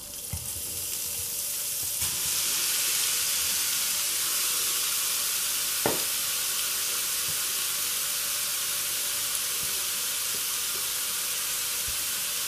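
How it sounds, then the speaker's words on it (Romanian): Meat for a Turkish dish fries in a pan over medium heat, giving a steady, close sizzling hiss throughout, with one brief sharp clink near the middle. "Prăjim la foc potrivit carnea până schimbă toată carnea culoarea și devine gri-maronie."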